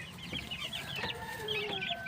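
Fighting cocks cluck repeatedly inside a cage, with a steady run of close, overlapping clucks and short calls from several birds and no talk over them.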